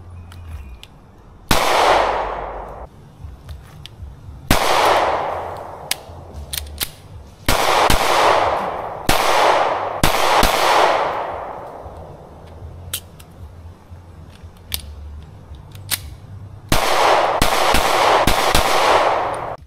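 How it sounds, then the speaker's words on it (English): Taurus G2C pistol fired outdoors, about seven loud single sharp shots at irregular intervals, each with a long echoing tail, plus some fainter clicks and handling sounds in between. "I shot 50, 60 rounds through it so far"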